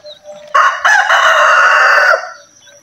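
A native rooster gives one loud, close crow lasting about a second and a half, with faint clucking from chickens before and after in rainy weather.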